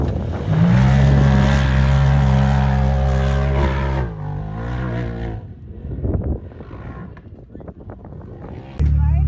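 A Can-Am Maverick R side-by-side on a hot lap around a dirt track roars loudly at full throttle for about four seconds, drops off through a pass with wind buffeting, then revs hard again.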